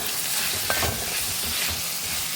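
Onion and chopped tomato sauté in a pan for an okra curd curry, a steady close sizzle with a brief scrape of stirring near the start and no talking.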